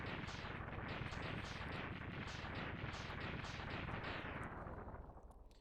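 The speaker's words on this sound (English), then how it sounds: "I wish that they didn't have these long explosion animations like they were real bosses" Mega Man X3 boss explosion plays as a long string of rhythmic, crackling blasts repeating about twice a second, loud and dense before fading out at the end.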